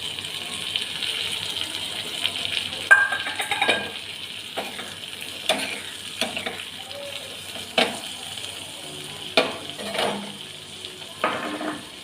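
Tomatoes frying in a pan, with a soft steady sizzle and several sharp stirring scrapes and clanks spread through the clip, close and moderately loud with no talk.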